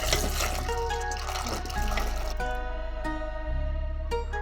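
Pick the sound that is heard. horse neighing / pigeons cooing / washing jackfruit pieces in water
washing jackfruit pieces in water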